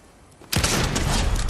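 Sniper gunfire in Fortnite, a sudden loud shot that bursts in after a quiet start and rolls on as a booming report.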